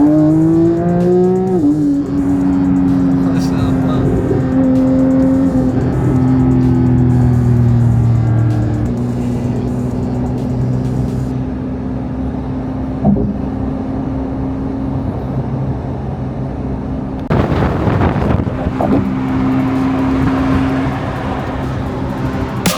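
A Porsche 911 GT3 engine revs hard while driving, loud and close from the cabin, with rising and falling tones through gear changes and a sharp burst of revs near the end, and no talk.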